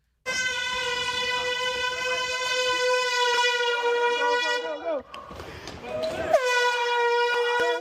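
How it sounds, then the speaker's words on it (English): People running blow an air horn with a loud, sustained, harmonic blast lasting about five seconds, then a break of scuffling and noise, then a second blast. "They're blowing an air horn as they're running through Scientology."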